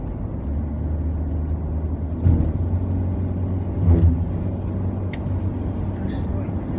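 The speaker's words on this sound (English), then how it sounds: "How come this car's too slow?" A car on a drive from Parnell to Lincoln Road hums along at a steady low pitch from inside the cabin, swelling briefly twice as it accelerates, with faint road noise throughout.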